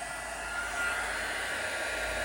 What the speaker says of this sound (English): Let's bring in my embossing tool. Heat it up just a second.